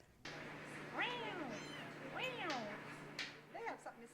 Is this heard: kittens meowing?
yes